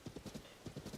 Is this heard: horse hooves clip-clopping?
yes